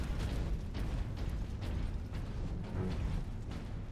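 A lascannon and other battle noise from the video game Warhammer 40K Space Marine: a dense, steady roar of repeated bursts and pops at even loudness, with no talking.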